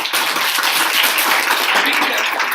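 Applause at a community celebration honoring a Vedanta Society anniversary: a dense, steady burst of many hands clapping together, loud and close, sustained evenly throughout.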